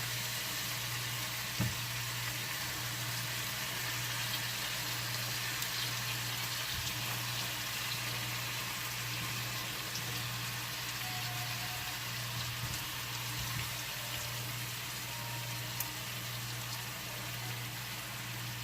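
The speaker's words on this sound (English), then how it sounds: "I'm going to cut the fire down on low and just let my garlic finish cooking" Garlic sizzles steadily in a pan on low heat, a continuous soft frying hiss with occasional faint pops and clicks throughout.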